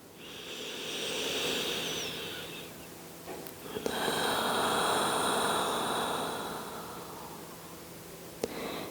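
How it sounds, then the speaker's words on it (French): Slow, deep yoga breaths, a long airy inhale followed by a long hissing exhale, close and steady with a soft background hum and no talk. "Et on prend une grande dernière respiration ensemble."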